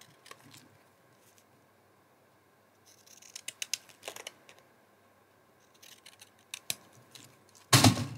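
Scissors snip through a recycled Christmas card in short bursts of crisp cuts, with quiet gaps between them and a louder rustle at the end.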